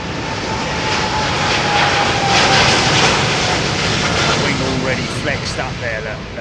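A busy airliner roars broadly on runway 27R at London Heathrow, a loud sustained engine rumble with a faint high whine, while voices chatter nearby toward the end.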